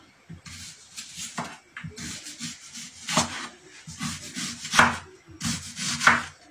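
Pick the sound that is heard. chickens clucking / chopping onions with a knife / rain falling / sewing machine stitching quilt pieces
chopping onions with a knife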